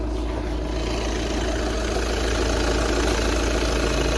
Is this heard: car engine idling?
yes